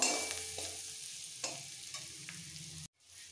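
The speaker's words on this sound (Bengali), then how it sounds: "এরপর দিয়ে দেবো ফুলকপি, ভেজে রাখা ফুলকপিগুলো একসাথে মিক্সড করে ফেলবো।" Potatoes and cauliflower fry in a pan while being stirred, steady close sizzling broken by a few scraping strokes, ending in a sudden brief cut to silence, no talking.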